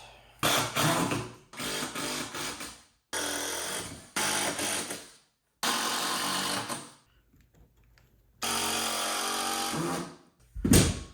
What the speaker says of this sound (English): we're gonna find our floor joists and screw the base directly to the floor joist